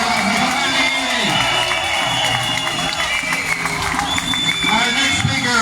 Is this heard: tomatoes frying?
no